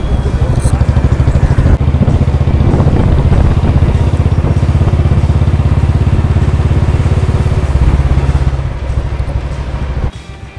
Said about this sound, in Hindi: एक बाइक राइड करके आपको एक व्लॉग बना के दिखाएं